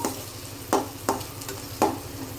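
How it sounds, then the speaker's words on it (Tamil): Tomatoes sautéing in a pan, for egg rice, make a low sizzle with three or four sharp scraping strokes of a spatula against the pan at uneven intervals. "இப்போது நாம் தக்காளியை நல்லா வதக்கிட்டோம்"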